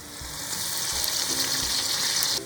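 Sausage and onions fry together in a pan, giving off a steady, bright hiss of sizzling fat with faint stirring rustles, close and fairly loud with no voices.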